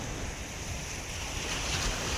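Calm sea surf heard from a small fishing boat, a continuous broad wash of water with steady wind rumble against the microphone, no distinct breaking crashes.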